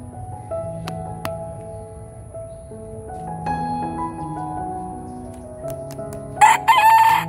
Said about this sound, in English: These are two hens I keep as pets.